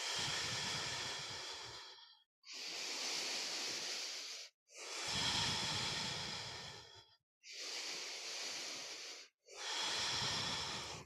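Slow, deep breaths during a yoga backbend, five long inhale-exhale cycles separated by brief pauses, close and fairly loud, with no talking.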